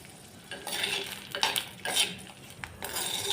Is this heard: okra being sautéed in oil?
yes